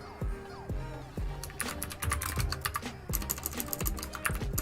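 Typing on a computer keyboard: quick irregular key clicks up close, layered over a steady rhythmic background beat with low thumps.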